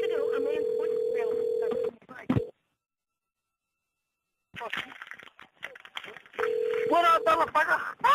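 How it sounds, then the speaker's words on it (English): Telephone ringback tone pulsing on an outgoing call, two long buzzing rings with a silent gap between, while someone talks over the line nearby. "it is still ringing while she's talking"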